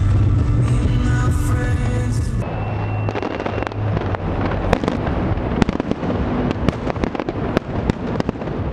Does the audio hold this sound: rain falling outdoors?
no